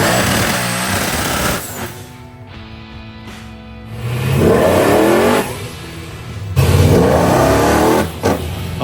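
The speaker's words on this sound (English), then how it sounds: "he lowered the tire pressure in the rear tires and got out a jug of pimp juice so that he could do a burnout" A pro-charged Chevy II with lowered rear tire pressure and traction compound in a parking lot, its engine revving hard in loud bursts with tire noise, pausing between two strong surges.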